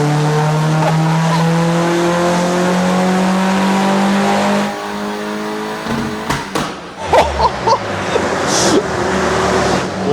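A VW Fox engine tuned for a dyno power run screams at full throttle, a loud steady harmonic howl rising in pitch for several seconds, then cutting off into clatter, rattles and bumps as it winds down.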